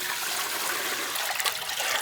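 Water splashes and trickles steadily as it is poured while preparing Kerala-style Nendran raw banana chips, a short, close, continuous pouring sound.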